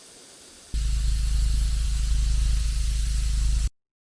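Automatic tire deflators screwed onto tire valves for off-road airing down release a loud, steady hiss of escaping air that starts abruptly, holds constant for about three seconds, then cuts off sharply to silence.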